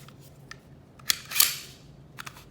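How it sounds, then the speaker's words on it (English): The takedown lever on a SIG P320 pistol is rotated, giving a few sharp, close metallic clicks and a short snapping scrape, each crisp and isolated against near silence. "You then take your takedown lever and rotate it."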